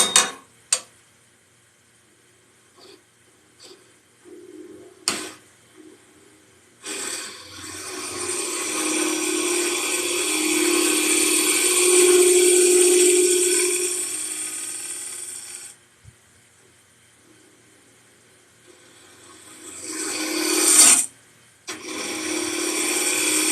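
A gouge cuts a wooden lidded box spinning on a lathe held only by friction: a sustained, rising and falling scraping hiss for several seconds after scattered knocks, then a quiet spell and a sharp final burst.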